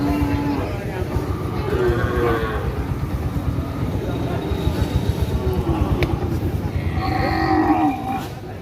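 Cattle at a Friday cattle market in Taherpur, Rajshahi, low repeatedly in the foreground while people talk over a constant crowd hum.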